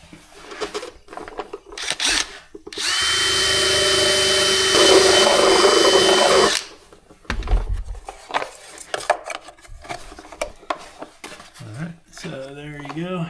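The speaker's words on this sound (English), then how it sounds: "Sanding this works well." Power sander working a trimmed template for a Jeep XJ deep-water mod, a steady loud whir for about four seconds between quieter handling knocks and bits of speech.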